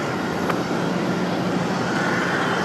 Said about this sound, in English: Republic Airways 4493. This one coming in from Pittsburgh, Pennsylvania, E175 LR, delivered in November of 2013.